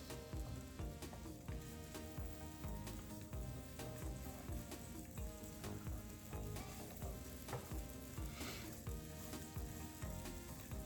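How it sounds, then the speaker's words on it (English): Spicy huevos con salchicha fry in oil in a pan, a steady, dense sizzle with crackling pops that runs unbroken from start to end, close and fairly loud, with no talking. "as you can hear it sizzling, starting to sizzle pretty good here"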